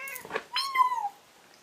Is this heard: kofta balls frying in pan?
no